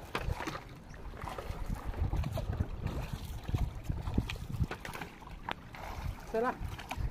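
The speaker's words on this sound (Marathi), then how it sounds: "स्पीड बघा एकदम फुल स्पीड मध्ये चालवली आपली होडी आली" A small wooden rowboat runs at full speed across the water. Wind and water noise churn steadily, and voices talk over it throughout.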